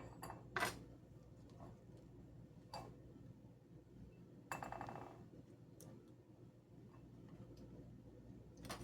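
A bowl for tomatoes is set down and handled in a home kitchen, giving a few faint, sharp clinks and taps spread apart over quiet room noise, with no talking.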